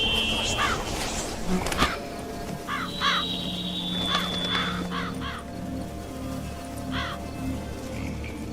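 Crows caw in short repeated bursts at a moderate distance, set over a buzzing insect-filled outdoor ambience in The Witcher 3 game world, with no voices present.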